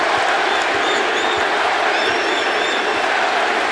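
A large arena crowd at a Golden State home game roars continuously, a dense, distant wall of cheering with a few whistles riding on top.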